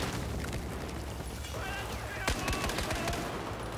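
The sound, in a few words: grenade explosions and gunfire in video game Battlefield 4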